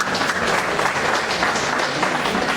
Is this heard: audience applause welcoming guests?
yes